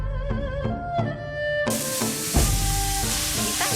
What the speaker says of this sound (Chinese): 这边炒西芹，那边继续煎着脑黄金。